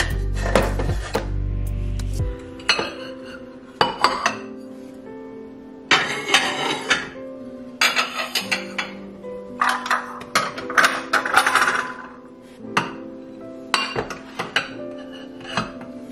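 Ceramic dishes and cutlery clatter and clink in irregular bursts as crockery is put away in a home kitchen during evening cleanup, close and sharp, with no talk.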